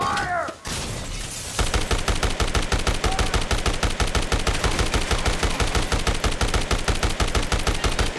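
Sustained automatic gunfire in Dead Rising Deluxe Remaster hammers out as a long, evenly spaced string of loud close shots, preceded by a brief shout and a crash.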